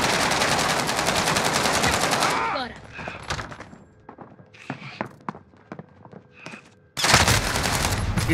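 Warzone video game gunfire, dense rapid automatic bursts up front, then scattered single shots and thuds at a distance, before heavy sustained fire resumes at the end.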